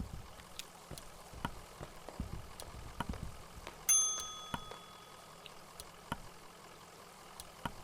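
A single bright bell chime rings on the outside of a building in the game Kentucky Route Zero, sounding once clearly with a ringing decay over quiet ambient clicks and soft background noise.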